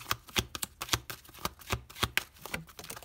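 Tarot cards shuffled and drawn, a quick run of crisp close taps and flicks in an irregular rhythm, soft and without talking.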